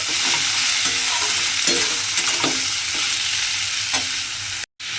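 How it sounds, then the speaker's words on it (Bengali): Thin slices of ash gourd stir-fried in hot oil, giving a steady close sizzle throughout with repeated scraping and clinking of a spatula against the pan, alone without talk. "চাল কুমড়োটা খুব ভালোভাবে মিশিয়ে একটু ভাজা ভাজা করে নিতে হবে"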